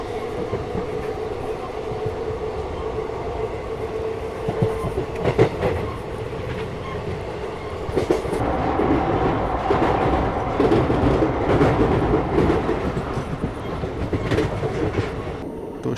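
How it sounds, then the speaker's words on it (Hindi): An Indian passenger train slowing between Shahjahanpur and Bareilly, heard from inside as a continuous loud rumble with occasional clacks over rail joints and a faint hum, growing somewhat heavier midway. "शाहजहाँपुर से ट्रेन अच्छे से निकली थी, लेकिन बरेली आते आते थोड़ी स्लो डाउन जो है वो हो गई"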